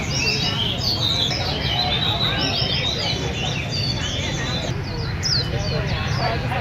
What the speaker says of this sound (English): Has many kind of birds.